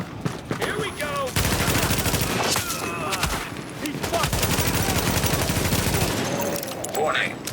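Sustained automatic gunfire in a firefight in The Division, with dense rattling bursts and overlapping shots that run almost without pause over a constant loud backdrop.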